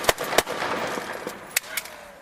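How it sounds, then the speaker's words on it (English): Police officers fire handguns during a confrontation, several sharp gunshot cracks spread over a couple of seconds, with two strong early reports and later isolated bangs, heard from a body-camera distance amid background noise. "Two officers fired at Jones"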